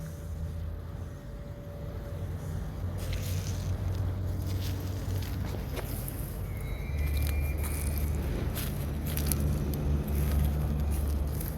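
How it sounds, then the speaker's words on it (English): Distant road traffic near industrial Sheffield, a low steady rumble of passing vehicles with faint scrapes and knocks close by, no voices. "And the traffic that you hear."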